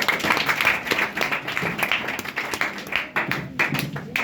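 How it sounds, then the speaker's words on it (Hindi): Audience claps at a weekly-test prize distribution, a dense, uneven patter of many hands lasting several seconds, close and fairly loud, with scattered sharper claps standing out. "इनके लिए एक शानदार सा तालियों का अभिनंदन दीजिए"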